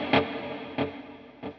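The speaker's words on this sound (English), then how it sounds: "So just a short bit of decay" An electric guitar set to a short delay and reverb decay strikes three separate chords at an even pace, each ringing briefly before quickly dying away.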